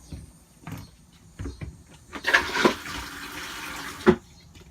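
A newly installed RV toilet flushes with a short, close rush of water that swirls and drains for about two seconds, ending with a sharp clunk. Quiet handling noises come before it.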